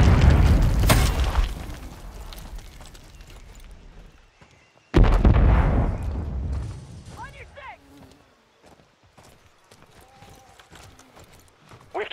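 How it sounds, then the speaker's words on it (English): Call of Duty stun grenade bursting in a heavy boom after a throw, followed by rumbling gunfire and combat noise, with in-game voice callouts heard in the mix. "Stun grenade out."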